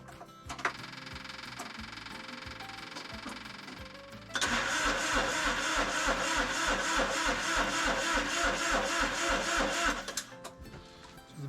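Diesel engine cranked slowly on a low battery after glow-plug preheat: a steady rhythmic starter churn with regular pulses, loud and close, running several seconds before stopping, preceded by a quieter whine.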